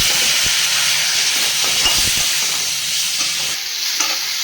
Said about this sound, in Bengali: এবারে দিয়ে দিলাম টমেটো।